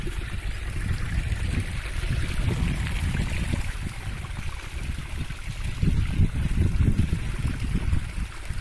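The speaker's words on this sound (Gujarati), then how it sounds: "ગટરમાંથી પાણી ચાલુ થઈ ગયા." Rainwater pouring out of a drain beside a flooded farm field after heavy rain, a continuous rushing, gurgling flow that stays steady and close throughout.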